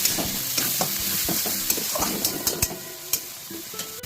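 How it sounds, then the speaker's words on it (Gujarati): Tomatoes being stirred into onions and potatoes frying in a pot: steady sizzle and hiss with repeated scraping, knocking stirs and utensil clinks against the metal, close and moderately loud, no voices. "ટામેટાં નાખ્યા પછી થોડું મિક્સ કરજો."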